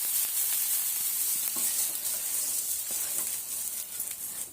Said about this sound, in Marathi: त्यावर थोडे पाणी शिपडून घेऊया